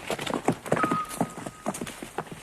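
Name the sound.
horse hooves passing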